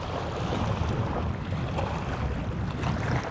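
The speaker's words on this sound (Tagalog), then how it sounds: "lakas ng hangin." Strong wind roars across open sea around a small fishing boat out squid fishing before dawn, a steady, loud broadband rush with waves and gusty microphone buffeting throughout, no voices.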